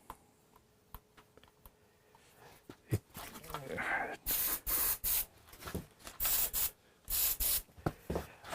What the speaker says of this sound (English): Servosol, minus a tube. This is a contact cleaner.